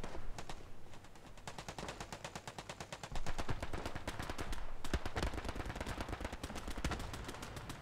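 Rapid gunfire in a World War II-style online shooter with tanks on a beach, dense overlapping bursts of automatic fire and heavier shots that grow louder midway, continuous and close.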